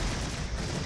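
Vulcan rotary cannon firing in the Regiments armoured warfare game, a dense continuous roar of rapid gunfire lasting just under a second at steady loudness.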